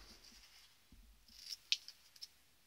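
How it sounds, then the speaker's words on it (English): Paper snips cut through cardstock while trimming a reindeer shape for a Christmas cracker craft: a few quiet, crisp snips cluster near the end, with no talking. "I'm going to be using my paper snips"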